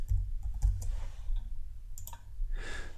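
A computer mouse clicks a few times in quick, sharp, close taps over a low steady hum, with no talking, while working with folders in 3D electrical design software.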